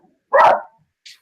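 A single sharp dog bark rings out clearly in a quiet room, followed a moment later by a brief faint yip, with no talking.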